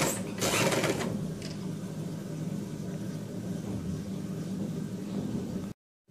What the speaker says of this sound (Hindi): यहाँ से मैं इसको अपनी सिलाई कंप्लीट करूंगी।